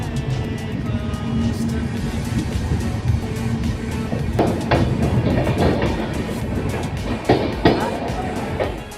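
Jaynagar Bhagalpur Express, an LHB-coach train, running into Madhubani station, heard as a loud continuous rumble with rail clatter and a few sharp clanks, with someone talking over it.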